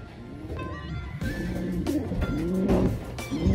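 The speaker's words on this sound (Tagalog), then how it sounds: "Papatuka tayo mga kalapati natin" Pigeons coo softly and repeatedly at close range while being fed, their low throaty calls overlapping with faint chirps and a murmur of distant traffic behind.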